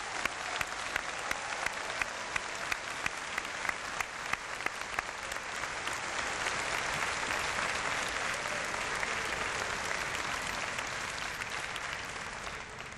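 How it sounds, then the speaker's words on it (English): A large convocation audience at a 2011 University of Waterloo graduation ceremony claps for the graduating class, sustained dense applause with sharp individual claps early on, swelling into a steady roar that holds for the whole stretch. "they deserve a round of applause"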